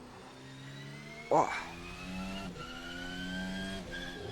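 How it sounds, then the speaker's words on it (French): A 2024 Formula 1 car driven in Assetto Corsa on a Madrid circuit, its engine holding a steady high-pitched drone with a sharp rev burst and gear shifts, while someone talks over it and exclaims. "Et le son moteur je le trouve vachement bien pour cette F1."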